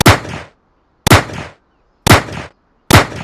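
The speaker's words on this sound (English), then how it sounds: "For example, a gunshot might be" Four sharp, loud bangs, each with a quick decaying tail, spaced roughly a second apart with silence between them.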